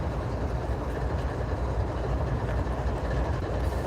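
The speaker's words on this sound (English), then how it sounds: "4279, our lead locomotive, northbound coming up from Dalton and Atlanta" Norfolk Southern freight train led by locomotive 4279, an AC44C6M, rolling northbound up from Dalton and Atlanta, heard trackside as a steady loud roar of wheels and cars without a break.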